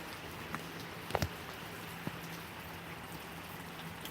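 Steady morning rain hisses softly outdoors, with a few scattered louder drips and taps breaking through the constant patter.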